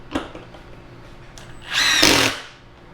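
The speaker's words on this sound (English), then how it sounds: "it's going to automatically stop this drill to try to prevent either the screw from stripping or the screw from breaking." A Milwaukee FUEL 2953-20 impact driver with auto stop drives a screw in two close bursts, the second loud and sustained, then cuts out abruptly, with a short mechanical click beforehand.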